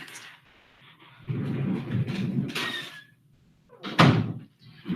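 A house door is handled to let a dog out, with a couple of muffled thuds and rattles, then a louder knock-like bang, all fairly close with quiet gaps between.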